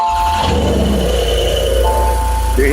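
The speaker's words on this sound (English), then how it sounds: "Let me show you guys how this exhaust sounds." A Porsche 911 Carrera 4S cabriolet exhaust running close by, a steady loud engine drone with a slight rise in revs near the end.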